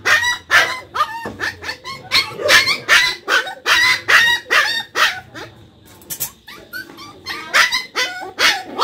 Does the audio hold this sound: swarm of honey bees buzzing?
no